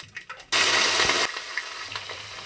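Bay leaves, dried red chilies and panch phoron hitting hot oil in a home kitchen, a loud sudden hiss that holds steady for under a second before dropping to a softer ongoing crackle.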